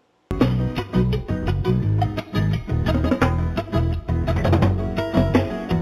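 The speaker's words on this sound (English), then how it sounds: "At the end of the day, this bell will ring." A school's end-of-day bell: a dense, loud musical chime sequence starts abruptly after a brief silence and plays on rapidly, with no speech.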